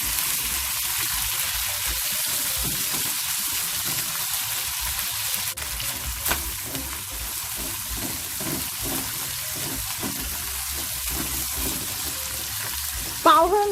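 Canned fried dace with salted black beans sizzles in a wok with ginger and garlic, a continuous close crackle with soft stirring scrapes and a few sharper pops toward the end, no talking.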